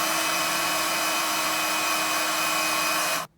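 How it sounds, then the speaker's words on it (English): A heat gun blows steadily on double-sided tape while mounting a Motomounts helmet mount, a loud, constant whooshing whine with a faint tonal hum that cuts off abruptly at the end. "you warm it up with the heat gun a little bit"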